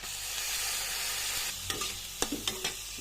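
Oil sizzles loudly in a pan as spice paste fries for a prawn bhuna while a utensil stirs and scrapes, adding a few sharp knocks toward the end.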